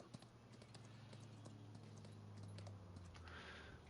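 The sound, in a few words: horse hooves trotting in video game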